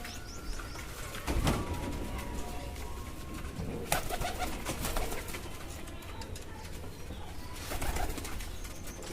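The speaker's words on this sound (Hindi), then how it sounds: "मैं आपको दिखाता हूँ ज़रा कबूतर" Pigeons coo in a loft, soft repeated low calls heard close by amid general rustling and a few sharper bursts of movement, with no talk.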